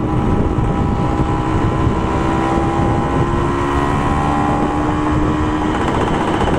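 A 2001 Kawasaki KE100 dirt bike cruising, its engine droning steadily up close under heavy, continuous wind rush with faint tonal whine throughout.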